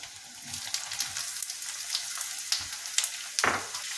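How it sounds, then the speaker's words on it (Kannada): Cut capsicum pieces fry in hot oil with a steady, close crackling sizzle, broken by a few sharp scrapes and knocks of stirring, without talk. "ಇದಿವಾಗ ಚೆನ್ನಾಗಿ ಆಯಿಲಲ್ಲಿ ಫ್ರೈ ಆಗಲಿ"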